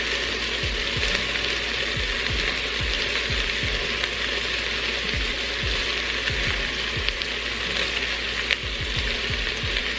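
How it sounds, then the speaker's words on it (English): Chunks of beef for stew sizzle steadily in the hot pot of an Instant Pot as they brown, with a constant bright hiss and scattered soft clicks and scrapes as the meat is turned, close and alone without voices. "Turn all of the meat over so it can brown on the other side."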